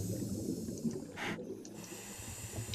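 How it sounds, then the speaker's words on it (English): Breathing inside a diving helmet in an underwater video game, a steady muffled hiss with a louder breath burst about midway, heard alone under a low rumbling background. "you can hear us breathing inside the helmet"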